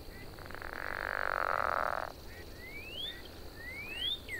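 A frog in the Technoparc wetland marsh gives one long, rasping croak lasting about a second and a half, close and clear. It is followed by thin rising whistles against quiet background ambience.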